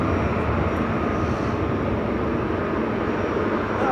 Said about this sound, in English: First heavy departure.